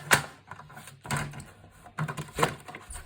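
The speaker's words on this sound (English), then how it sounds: "So I'm just lining it up and trimming off between those 2 lines" A paper trimmer slices cardstock for a handmade mini album, giving four short, sharp cutting strokes spaced about a second apart, close and fairly quiet with no talk over them.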